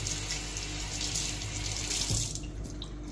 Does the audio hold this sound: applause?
no